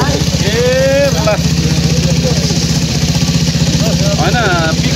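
Hybrid battery-and-petrol powered vehicle with its engine running, giving a steady close pulsing idle throb throughout while people talk over it.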